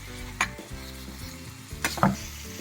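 Garlic cloves, tamarind and a piece of jaggery sauté in a pan with a steady low sizzle, punctuated by a few brisk scraping stirs, close and clear with no talk.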